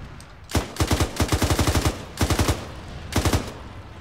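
Gunfire in the Arma 3 military game, loud and close: several sharp bursts of rapid automatic shots with short gaps between them, including one longer rattling volley, and no talking.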